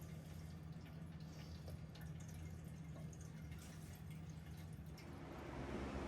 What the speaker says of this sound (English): I'm just draining out the gas tank.